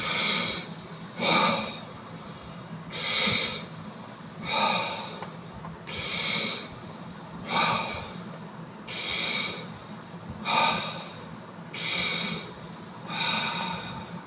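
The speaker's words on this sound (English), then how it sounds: "so let's do the 5 breaths" Forceful breathing exercise with deep, obnoxiously loud breaths close to the microphone, alternating long rushing inhales and exhales in a steady rhythm, roughly nine breath sounds in all, with no talking.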